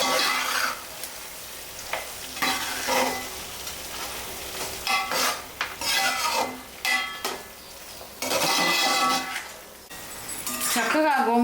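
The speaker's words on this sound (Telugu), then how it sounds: "చక్కగా గోంగూర ఫ్రై అయిపోయిందండి." Gongura sorrel leaves fry in a pan for a gongura chicken curry, with scraping, clattering stirring and a steady sizzle running through the whole stretch, close and fairly loud, while a voice talks now and then.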